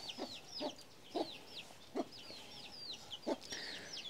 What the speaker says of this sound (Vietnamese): Đấy, có gà.